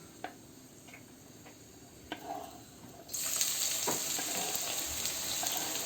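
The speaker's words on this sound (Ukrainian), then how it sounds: "Для цього спочатку ми засмажимо цибулю." Quiet kitchen ticks and a couple of clinks, then a sudden loud sizzle as onion hits a hot pan and keeps frying steadily.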